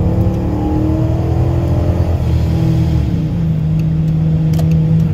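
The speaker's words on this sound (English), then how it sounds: "I'll get a little more aggressive and just watch the RPMs flash high" A car fitted with a high stall torque converter accelerates hard, its engine revving up to a loud, steady drone with rising whine, close and unbroken throughout.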